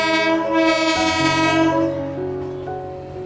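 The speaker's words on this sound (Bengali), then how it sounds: "ট্রেনটা স্যাক্সোফোনের মতন সাইরেন বাজিয়ে এগিয়ে চলল।" A train sounds a long, loud, saxophone-like horn with shifting harmonic tones while it pulls away, heard up close with no speech.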